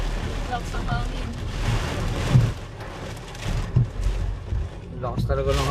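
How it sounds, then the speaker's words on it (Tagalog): Strong wind roars steadily against the microphone with rain-like noise, while people talk and exclaim throughout. "Lakas talaga ng hangin."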